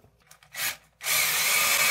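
A power drill bores a hole through a fiberglass shower wall to mount a grab bar, with a short burst followed by a sustained, loud, close whine that runs to the end.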